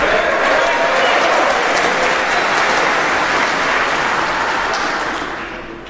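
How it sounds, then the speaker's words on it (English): A snooker crowd at a 2011 Premier League semi-final gives dense, sustained applause that stays loud and even for several seconds before trailing off at the end. "Encouraging applause from O'Sullivan."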